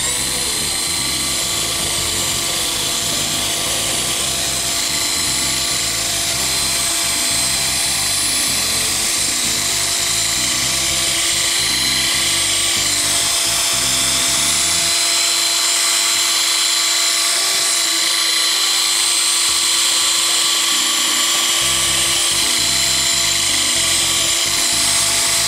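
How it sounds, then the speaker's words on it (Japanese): A power polisher whirs steadily across a car's glass-coated paintwork, a continuous high-pitched motor drone that dips briefly in the middle before resuming, with no talk over it. "まあ、とりあえずこっち側さらっと磨いても。"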